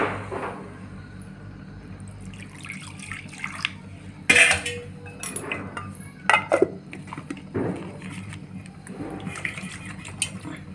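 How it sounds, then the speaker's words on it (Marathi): Water is poured into a pot of thin methi bhaji, with clinks of a metal pot and utensils, splashes and scrapes in uneven bursts against quiet kitchen background. "मी याच्यात अजून थोडं पाणी घालणार आहे."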